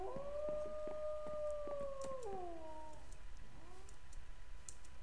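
A dog howls in a modded Minecraft survival game, two long wavering howls sliding downward, with faint clicking and keyboard taps underneath and no talk.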